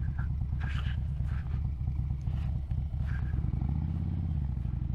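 A Harley-Davidson Road King motorcycle being ridden, its engine a steady low rumble throughout with a slight rise in revs near the end, accompanied by some wind and road clatter.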